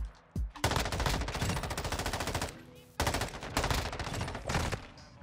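M13B rifle from Modern Warfare 2 firing long rapid automatic bursts, loud and close, with a short gap between two sustained strings of shots.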